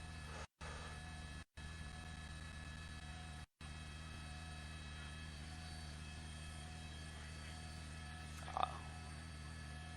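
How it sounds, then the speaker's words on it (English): An LA County helicopter flies overhead near a landing zone during a school shooting response in Santa Clarita, California, heard as a steady, fairly distant rotor and engine drone that continues throughout, with a few brief dropouts. "It's an LA County helicopter."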